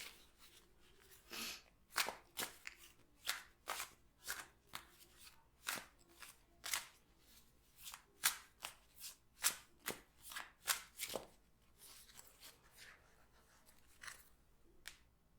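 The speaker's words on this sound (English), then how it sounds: "I'm just going to shuffle my cards." A deck of tarot cards is shuffled in a series of crisp, close riffling bursts, irregular but steady, quiet and with no talking.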